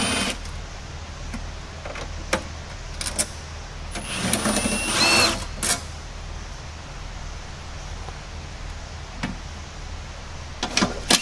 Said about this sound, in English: Take out the 4 bolts using 10mm socket.